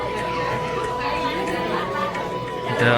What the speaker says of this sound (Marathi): इथं थोडीफार तर गर्दी आहे आज